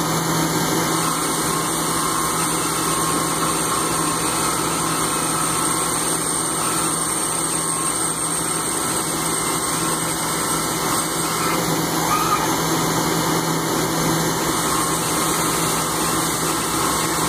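A small lathe cuts a thin-wall aluminum part, giving off a steady, loud mechanical whir and hum with a high whine running through it, even and unbroken throughout, with no speech.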